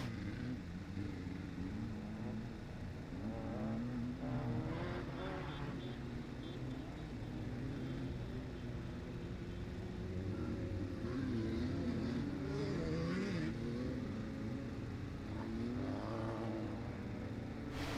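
Race cars running on a dirt racing track during the American Rentals Freedom Cup, a steady engine roar with rising and falling revs as cars pass, heard from a distance under continuous announcer-style talk.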